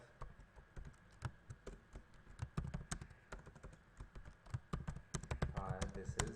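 Typing C code on a computer keyboard, rapid irregular key clicks in bursts throughout, close and clear, with someone speaking over the keystrokes.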